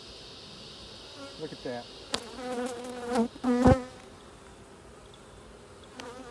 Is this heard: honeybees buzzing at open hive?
yes